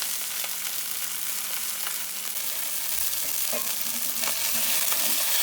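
A thick striper fish fillet fries in a hot pan, giving a steady, close sizzle with occasional crackles and pops and no talking.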